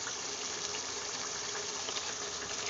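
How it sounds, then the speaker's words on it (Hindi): Water is poured into a pan of spices and paste being fried for a besan curry, giving a steady, loud hiss and bubbling sizzle that runs continuously without pause. "अब हम यहाँ पे थोड़ा पानी ऐड करें"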